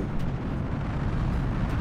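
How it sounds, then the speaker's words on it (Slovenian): Wind rushing steadily over a car in the driving game BeamNG.Drive, a loud, broad roar that holds at an even level for the whole stretch with no distinct crash standing out. "Slište to, veter in udarec."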